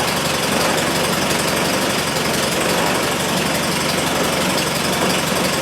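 A Triumph Spitfire engine idles at a low speed, a steady, unbroken mechanical drone that holds an even level throughout with no voices.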